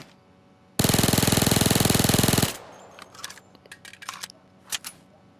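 A Micro Uzi submachine gun in the video game Payday 2 rips off one long, loud sustained full-auto burst lasting almost two seconds, then scattered light clicks and metallic rattles trail off afterward.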